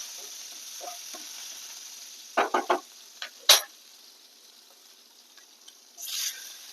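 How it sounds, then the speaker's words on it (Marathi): Curry leaves and chillies hit hot oil for a tempering, giving a steady close sizzle with a few sharp crackling bursts midway and a brief spitting flare near the end. "मी कढीपत्ता मिर्चा टाकते"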